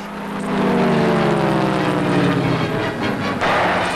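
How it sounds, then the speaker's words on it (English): Spitfire propeller aircraft engines pass close by over a football match at Wembley Stadium, a steady loud droning roar with a slowly falling pitch as they sweep past. "the Spitfires, which added the sound of their engines"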